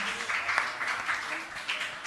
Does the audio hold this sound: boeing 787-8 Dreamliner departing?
no